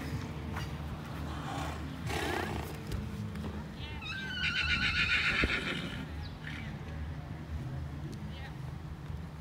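A horse at a side saddle horse show lets out a loud, close whinny in the middle, amid general show-ground bustle and people talking.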